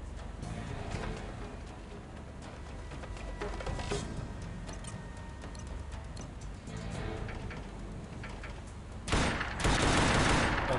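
Gunfire in the first-person shooter game Combat Task Force 121, a dense continuous clatter of rapid shots over a steady background, swelling into a louder burst near the end.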